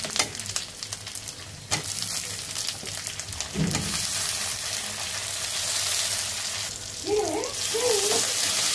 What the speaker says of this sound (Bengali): আদা রসুন বাটা দেওয়ার পরে একটু ভাজবো